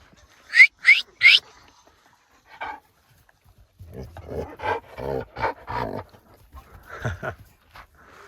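A female Kangal dog that gave birth overnight makes three sharp, high whining yelps in quick succession, followed by a stretch of breathy, rhythmic sounds mixed with someone talking nearby.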